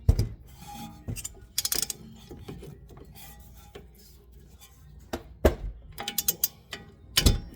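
A Milwaukee 1/2-inch drive ratchet loosening a bolt, with sharp clicking pawl ratchets in short irregular bursts, close and fairly quiet, separated by pauses and clanks.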